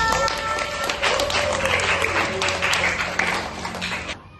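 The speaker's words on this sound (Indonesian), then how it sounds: "terima kasih tepuk tangan untuk kita semua" A class of schoolchildren claps together during a lesson, sustained scattered clapping with faint voices mixed in, stopping abruptly near the end.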